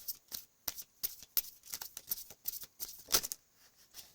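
Tarot cards being shuffled and drawn by hand, a quick run of close, crisp riffling flicks and slaps in an uneven rhythm, fairly soft overall.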